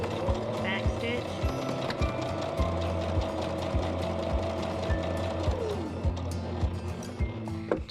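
A sewing machine backstitches a dog bandanna with a steady fast mechanical whir and rhythmic needle ticks, running continuously near the microphone before slowing toward the end.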